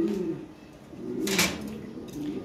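Low, soft cooing from Lahori pigeons kept at a home for sale, repeated murmuring coos near and faint, with a brief bright rustle or clatter in the middle.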